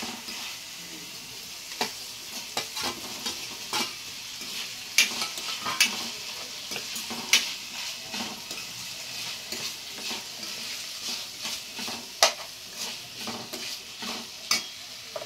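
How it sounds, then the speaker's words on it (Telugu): Boiled potatoes fry in a hot pan while a spoon stirs them, a steady sizzle carrying repeated scraping clinks and taps at an uneven rhythm, close and moderately loud, with no voices. "ఉడకమెట్టి ఉంచిన ఆలుగడ్డలు వేసుకున్నాం."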